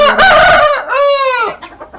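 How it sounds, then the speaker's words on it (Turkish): A rooster crows loudly and close by, a drawn-out call followed by softer clucking from chickens. "Horozumuz falan da burada."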